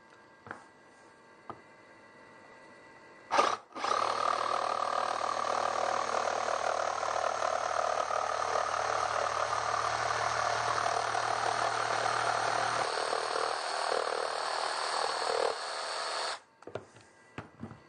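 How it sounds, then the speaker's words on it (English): A jigsaw cuts through wood for a horse saddle stand, a loud steady buzzing run of about twelve seconds with a sharp start and stop and brief clunks around it, no talking. "In this case, I think I'll use a jigsaw."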